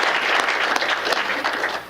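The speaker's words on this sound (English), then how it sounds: "if we can have a round of applause for those individuals" A brief, full burst of audience clapping at a mayor's employee recognition awards ceremony, dense and continuous throughout.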